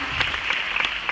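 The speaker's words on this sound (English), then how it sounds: "So a big applause and a big thank you to all of you" An awards-ceremony audience applauds in a dense, continuous wash of clapping, fairly close and sustained for a short burst.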